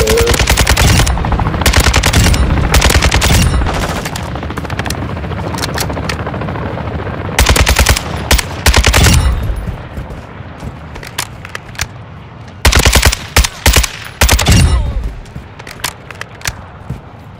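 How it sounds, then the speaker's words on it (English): Bursts of automatic gunfire rattle in a firefight in the video game DMZ on Ashika Island. Loud, rapid volleys come in several separate bursts, with quieter stretches between them and a helicopter droning underneath. "Be ready for a gunfight."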